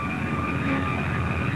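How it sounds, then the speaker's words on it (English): Starter energized on a TBF Avenger aircraft engine, a steady loud whining drone with sustained tonal hum, constant and close without breaks. "Next, the starter is energized for 15 seconds."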